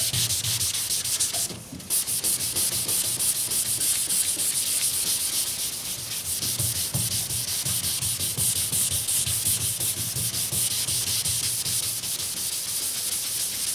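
Wet sanding of the black paint on a 1977 Camaro Z28 with 800-grit paper, a close, continuous rhythmic rubbing hiss of back-and-forth strokes with a brief pause early on, no talking.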